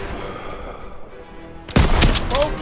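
Gunfire in a World War II battle in Call of Duty: WWII, starting after a quieter stretch of low rumble with a sudden loud burst of rapid shots and blasts that carries on to the end, no speech heard.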